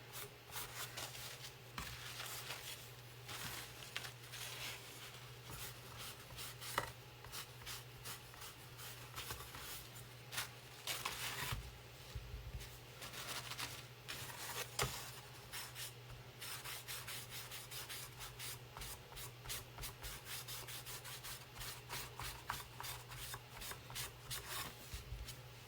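Sandpaper rubs along a wooden piece with the grain in steady, continuous strokes, a faint, close scratching that keeps an even rhythm throughout.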